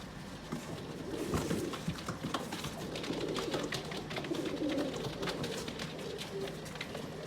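Pigeons coo softly in low, repeated murmurs, accompanied by light rustling and flapping sounds nearby.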